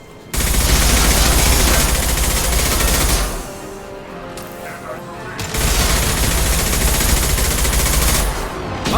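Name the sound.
high-impact shot gunfire in Mass Effect 2 video game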